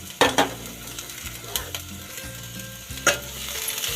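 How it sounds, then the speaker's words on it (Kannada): Green chillies and cabbage frying and being stirred in a pan give a soft sizzle, broken by a few sharp scrapes and knocks of a utensil against the pan, with no talking. "ಮೊದಲು ಹಸಿಮೆಣಸನ್ನು ಹಾಕ್ತಾಯಿದ್ದೀನಿ. ಈಗ ಕ್ಯಾಬೇಜ್ ಹಾಕ್ತಾಯಿದ್ದೀನಿ, ಅಂದರೆ ಎಲೆಕೋಸು ಹಾಕ್ತಾಯಿದ್ದೀನಿ."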